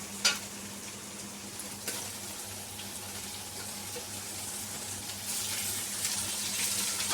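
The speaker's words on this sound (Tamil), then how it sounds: "தக்காளி போட்டுக்கலாம்." Tomatoes frying in oil in a pan for chicken sukka, a steady broadband sizzle with soft stirring clatter and a low hum underneath, growing a little louder toward the end.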